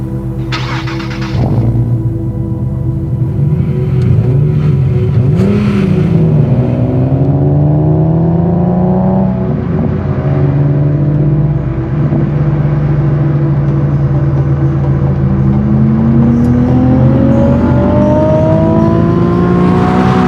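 Nissan 370Z Nismo engine revving loudly from inside the car while driving, with rising and falling harmonic sweeps as it accelerates and shifts, a steady deep rumble underneath throughout.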